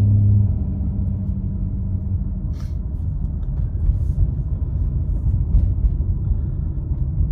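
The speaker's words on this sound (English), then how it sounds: "Look at this super awesome truck right here" A truck rolls past with a low steady rumble and engine drone that swells slightly and fades, on a snowy road, with no talk.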